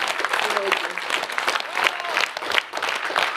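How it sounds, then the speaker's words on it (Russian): A concert hall audience at a 2018 conductors' competition in Kyzyl claps for the orchestra musicians, a fairly close, fluctuating round of applause with a few voices mixed in. "Все аплодисменты им."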